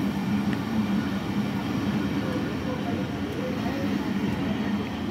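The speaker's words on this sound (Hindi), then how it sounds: "ये देखिए ट्रेन जो है वो दोबारा से रेलवे स्टेशन से चल पड़ी है, और कराची की जानिब गामजन है।" Train pulling out of Sahiwal railway station toward Karachi, a continuous low rumble and rolling rattle of wagons passing close by, steady and fairly loud throughout.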